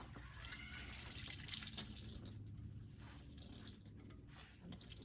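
Clothes being rinsed by hand in a water bucket after washboard scrubbing, with sloshing, swishing and dripping water close by, irregular and fairly soft, no talking.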